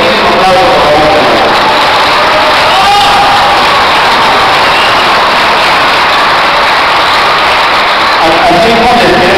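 A large crowd at a tango show in a train station roars with loud sustained applause and cheering, a dense, saturated wall of sound that fills the whole stretch with voices mixed in.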